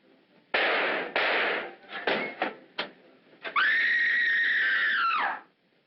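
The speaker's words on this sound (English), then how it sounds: "Who screamed?" A person lets out a long, loud, sustained scream close by in an old dramatic film scene, preceded by sharp bangs and thuds, then fading off.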